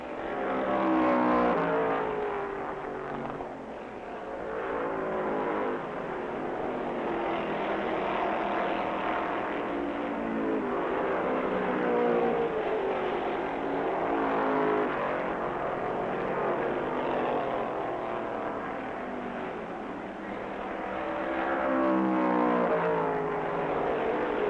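1965 NASCAR stock cars, including a Dodge and a Ford, racing at Rockingham Speedway: a steady, loud engine roar holds throughout with slight surges as the cars pass, no talk over it.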